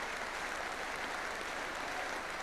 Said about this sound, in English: Leeds get generous applause, all sympathy for the losing side in any final.